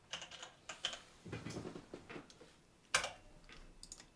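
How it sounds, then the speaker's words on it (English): Close keys tapping on a computer keyboard in short irregular bursts, a handful of light clicks with one sharper keystroke near the middle. "I'm just going to type in iPhone."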